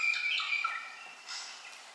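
A lorikeet gives a harsh, screechy call like a kaka in two short bursts over about two seconds, clear and fairly close, with no voices.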